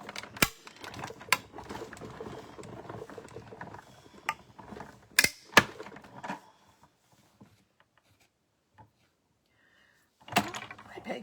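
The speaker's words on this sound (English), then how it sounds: "I just want to show you guys something on my cut emboss machine" A cut and emboss machine running while a card is crafted, giving a low mechanical grinding whir with sharp clunks and clicks, close and fairly quiet, falling to near silence before a final clatter.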